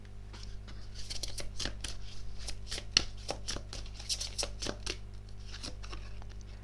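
Tarot cards being shuffled and an answer card drawn, giving a run of quick papery snaps and riffles at an uneven rhythm over a steady low hum, with no talking.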